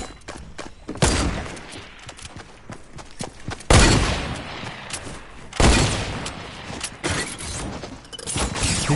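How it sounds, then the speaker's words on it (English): Rapid bursts of gunfire and explosive blasts in the Fortnite video game on PS4, loud and close, with several heavy shots standing out over continuous firing and no talk. "Two shots."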